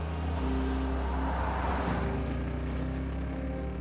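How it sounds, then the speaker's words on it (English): A car drives down a winding road through rolling hills in a game trailer, its engine a steady, smooth hum with a mild swell midway, heard clearly without talk. "Through rolling hills, a car drives down a winding road."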